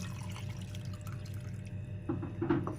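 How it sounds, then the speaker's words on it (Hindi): Two cups of water poured into a pot of tamarind pulp, soft splashing and trickling that swells toward the end, faint and close with no talking. "ये 2 प्याली पानी डालेंगे"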